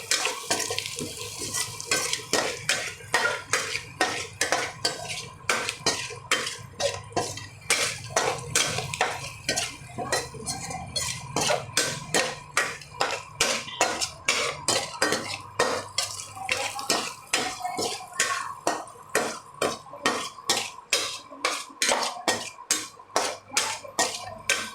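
Spicy masala being sautéed in a pan, fast rhythmic spatula strikes against the metal repeating throughout over a wet sizzling hiss, close and loud, with no talking.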